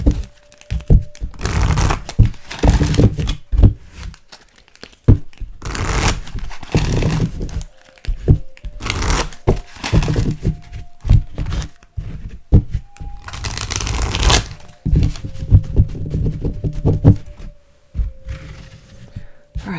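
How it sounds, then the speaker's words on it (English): Tarot cards are shuffled in repeated bursts of riffling and crinkling, separated by brief pauses, with a faint tone humming underneath. "Again, another deck that's difficult to shuffle on its own."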